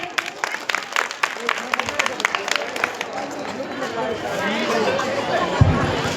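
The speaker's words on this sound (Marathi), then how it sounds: "या बाल कलाकारासाठी जोरात टाळ्या झाल्या पाहिजेत।" A crowd at a children's performance event claps and chatters after a child performer's song, the applause building into a steady, dense roar toward the end, mixed with voices.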